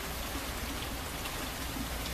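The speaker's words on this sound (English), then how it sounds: "It's kind of drizzling." Steady light rain falling outdoors, a dense even patter of drops with no pauses, moderately faint and alone.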